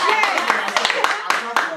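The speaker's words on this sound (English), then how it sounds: "I'm clapping for myself" A person claps for themselves in a casual chat, a handful of sharp hand claps at an uneven pace over a steady background of talking voices.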